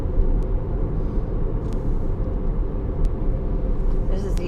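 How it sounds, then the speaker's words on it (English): A car driving through a small mountain town in Tennessee gives a steady low engine and road rumble from inside the vehicle, continuous and fairly loud, with a few faint clicks on top. "This car is going to try to pass me."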